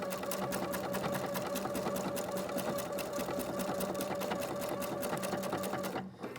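A Pfaff sewing machine stitches ribbon in a fast, even run of needle strokes, loud and close, then stops abruptly near the end.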